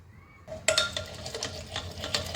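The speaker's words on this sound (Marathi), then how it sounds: "तरी चमच्याने मी ढवळून घेते" A spoon stirs cooked taro leaf vegetable (aluchi bhaji) in a metal pot, giving repeated soft scraping clinks and sloshes at close range after a quiet start.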